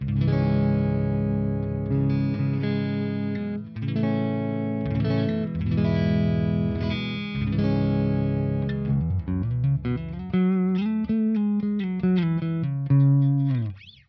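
Clean electric guitar with no reverb or delay, played for a post-rock style: sustained chords and ringing single notes, then a quicker run of picked notes near the end, steady and close throughout.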